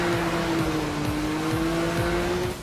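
Porsche Cayman race cars in the NFS Rivals video game drone along with a sustained, loud engine tone and faint tire noise, heard close and with no voices.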